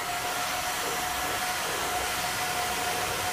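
A heat gun blows a steady, loud whirring stream of hot air onto a PVC pipe to soften it for bending, one constant, unbroken drone with a thin whine on top.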